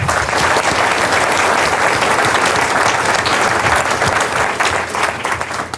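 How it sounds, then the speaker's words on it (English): A roomful of people at a university opening breakfast claps warmly, a continuous, even wash of applause that stays loud and close throughout without any speech over it. "So if you could give them a round of applause"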